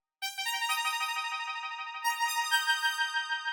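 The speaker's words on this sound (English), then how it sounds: "The next sound we've got here is this lead, which sounds like this." Airy, angelic synthesizer lead in a Oneohtrix Point Never-style electronic track, sustained bright tones with gentle pulsing wobble that swell in and shift pitch midway, soft and alone.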